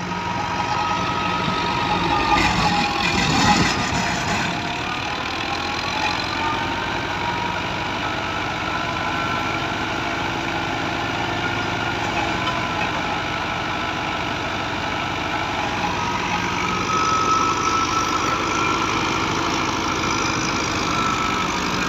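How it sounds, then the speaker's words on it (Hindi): A New Holland 640 tractor engine runs steadily during a wheat harvest in Punjab, Pakistan, a continuous low, loud rumble with constant mechanical drone, no speech over it. "ट्रैक्टर दोस्तों देखो थोड़े सामने है ट्रैक्टर, कोई जम के चल ही नहीं रहा, मोशन ही नहीं पकड़ रहा।"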